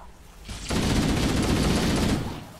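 A loud, sustained burst of rapid automatic gunfire in Halo: Combat Evolved Anniversary runs for nearly two seconds before tapering off.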